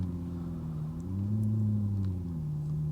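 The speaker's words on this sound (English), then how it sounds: "Just waiting for a McLaren MP4-12C to move out of the way. That is the only engine noise I'm hearing today." A McLaren MP4-12C idles nearby, a low, steady engine hum with a smooth rumbling drone that holds even for a few seconds and swells slightly midway, with no revving.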